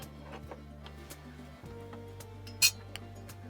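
A ragi flour flatbread is flipped on a hot pan, giving one sharp, brief clink of metal near the middle over a low steady hum, followed by a faint tick.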